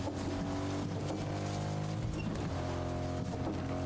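A car drives in the video game Fortnite, a loud, continuous engine drone with a rough, buzzing tone and slight shifts in pitch, with no voices.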